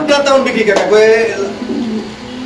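A pigeon of a range breed held in a man's hand coos in a few low, rolling calls, close and fairly loud, with someone talking over part of it.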